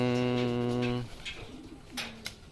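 A blue bar racing pigeon returns home from a 125 km training flight in Santa Fe, Nueva Vizcaya, giving a sustained, loud close coo for about a second, followed by quieter scattered rustles and faint chirps.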